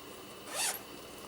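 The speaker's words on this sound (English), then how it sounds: "It all zips closed." A single quick zipper pull closes a fabric sew-together bag, a short rasping zip heard up close against a quiet background.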